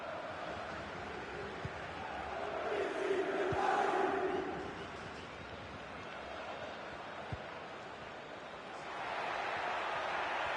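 Crowd at a football match swells into a broad cheering roar, then eases back to a steady distant murmur of the stands before rising again near the end.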